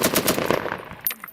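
A short burst of rapid machine gun fire from a US Marine assault on an insurgent stronghold, several close, punchy shots in quick rhythm that cut off abruptly, followed by a couple of faint single reports.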